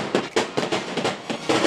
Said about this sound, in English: the firecrackers going